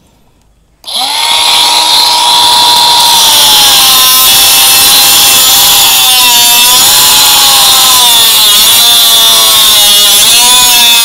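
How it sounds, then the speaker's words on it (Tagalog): A mini angle grinder fitted with a metal-cutting disc cuts into wood, starting abruptly after a brief silence into a loud, sustained high-pitched whine that wavers slightly as the blade bites. "Ito nga pala yung binili kong angle grinder na mini version."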